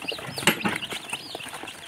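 Chickens brought for sale at a village poultry market cluck and squawk in a busy cluster nearby, with overlapping calls and a sharp louder cry early on.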